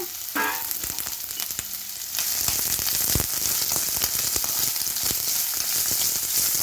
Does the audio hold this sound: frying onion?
yes